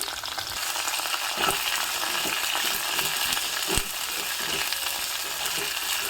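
Cut drumsticks, three long moringa pods, sautéing in a little oil: a dense, continuous sizzle close by, broken by occasional clicks and scrapes of stirring.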